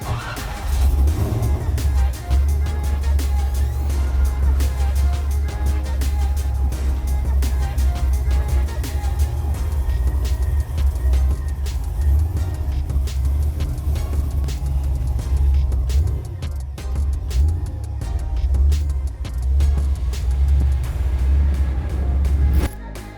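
A Chevrolet C10 truck drives hard around a test track at a motorsports park, its engine rumbling loudly and continuously with rising and falling revs and occasional tire noise.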